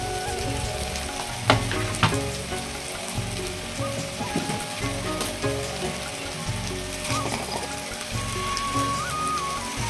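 Spice masala for chicken curry sizzles steadily in a pan with coriander, cumin, turmeric and Kashmiri chilli powder, a dense crackling fry with a couple of sharp clinks of stirring near the start, no voices.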